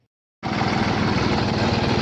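A 3630 tractor's diesel engine starts up abruptly after a moment of silence, then runs loud and close with a steady, even throbbing idle.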